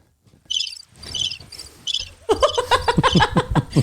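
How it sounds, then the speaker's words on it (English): Crickets chirp in quick repeating bursts as a sound effect in a podcast, joined partway through by loud laughter and chatter that overlaps the insect sound. "I don't know why we needed crickets for that."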